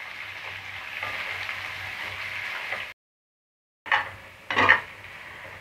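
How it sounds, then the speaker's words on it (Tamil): Onions sauté in a pan on low flame for fish biryani, giving a steady soft sizzle with faint clinks, then a brief silence followed by louder stirring and scraping of the pan; no talking. "நல்லா கோல்டன் ஃப்ரை ஆகிற வரைக்கும் வெங்காயத்தை வதக்கி விட்டுட்டே இருங்க"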